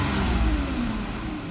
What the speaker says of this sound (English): If I blip the throttle, it no longer wants to stall.